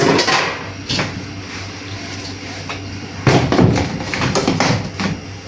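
Aluminium pots and dishes being stacked and set down on a floor at home, several separate clanks and thuds, with a dense cluster of knocks in the second half, close by and with no voices.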